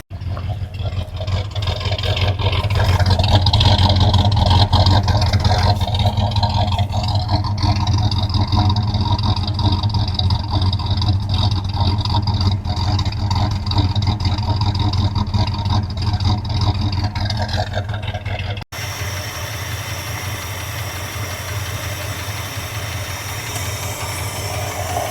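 A 1976 Dodge Club Cab Adventurer truck engine runs steadily with a newly fitted carburetor, a loud, continuous low rumble and drone close by with no talking, its tone shifting slightly near the end.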